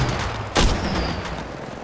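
A single sharp, loud gunshot bursts out in Apex Legends Mobile gameplay, standing out briefly against a steady bed of background game noise.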